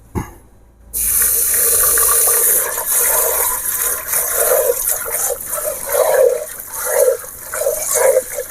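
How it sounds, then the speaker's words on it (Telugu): Lentils being washed under a running kitchen tap, water gushing loudly and steadily after a brief quiet start, with sloshing swirls as the grains are rinsed. "ఈ పప్పు వాష్ చేసుకోవాలి."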